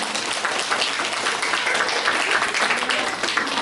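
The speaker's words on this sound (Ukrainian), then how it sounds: "Оплески, оплески, оплески." Steady, dense applause from a concert audience at a year-end recital fills the whole stretch, close and loud, with no voices standing out above it.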